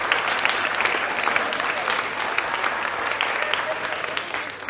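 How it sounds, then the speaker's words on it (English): An audience at the National Sharks Quiz Championship 2022 claps after an answer, a full, dense burst of applause that carries steadily through the whole moment with no voices over it. "Clap, please, put your hands together,"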